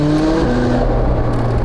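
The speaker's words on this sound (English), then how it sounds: "one of the cool things about having a roof scoop is that you can hear the induction noise" McLaren engine induction noise drawn through a roof scoop while accelerating onto a highway, a loud steady roar with rising tones, heard alone.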